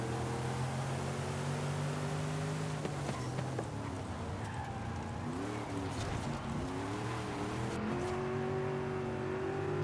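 A Chevrolet Camaro in the Forza Horizon 5 racing game revs and accelerates, the engine note rising and falling through gear changes under light background noise, with no talking.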